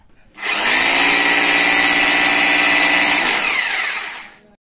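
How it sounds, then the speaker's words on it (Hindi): A Wondercut WCGP-2-26 rotary hammer drill running in hammer-only mode, without rotation, starts abruptly into a loud, continuous high-pitched buzzing whine close by, holds steady for about four seconds, then winds down and cuts off. "वाइब्रेट हो रहा है घूम नहीं रहा है ये सिर्फ जो है कि हैमर का काम कर रहा है"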